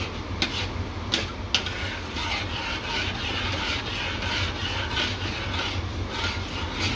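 Spoon stirring a beef pot pie mixture with broth in a pan, continuous scraping and swishing with a few sharp clicks against the pan early on, steady and close, no talking.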